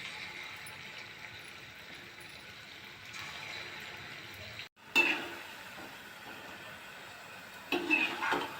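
Gulgule, sweet jaggery-batter fritters, dropped into hot oil and frying at home: a steady broadband sizzle throughout, with a brief dip near the middle and louder bursts of bubbling as more batter goes in.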